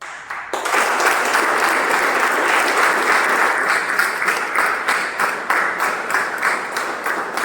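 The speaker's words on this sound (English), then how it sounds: "I would request you to gather your energy right there, and let's welcome our next speaker, Toastmaster Revati." An audience at a Toastmasters speech meeting bursts into applause to welcome the next speaker, a loud, dense burst of clapping that starts abruptly and holds steady, thinning slightly toward the end.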